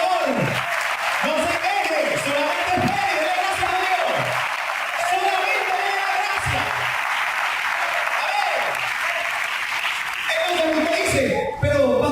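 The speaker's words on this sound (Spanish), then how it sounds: "un aplauso al Señor" A church congregation applauds in praise, steady clapping filling the hall with voices and a preacher's speech mixed in throughout.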